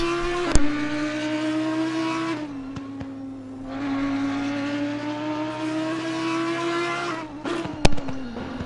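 The 5.2-litre V10 of an Audi GT3 race car holding a loud, steady, high-pitched wail close by, with brief dips at gear changes and a couple of sharp clunks, no voices.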